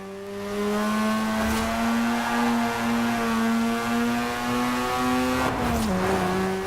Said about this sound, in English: Nice rotary sounding engine, fantastic.